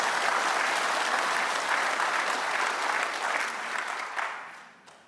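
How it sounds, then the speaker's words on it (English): Sustained applause from an audience at an annual vitamins and minerals industry conference, greeting an award winner called back to the stage; dense, steady clapping that holds for several seconds and then thins and fades toward the end. "Let's give him a huge round of applause."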